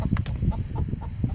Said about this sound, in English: And chickens really like being out here. They seem to be a little excited right now.